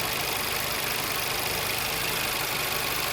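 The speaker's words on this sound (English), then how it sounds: "Engine is running smooth." A VW Audi 1.8 TSI engine idles smoothly and steadily at close range, a continuous even hum with no stumbles or gaps.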